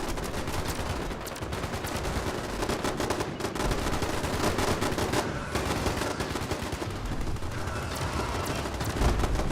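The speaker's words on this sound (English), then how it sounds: "It's called the Tesla rifle." Rapid automatic energy-weapon fire from a Tesla rifle in Fallout 76, a dense, continuous crackling barrage that stays loud and close throughout with only brief dips.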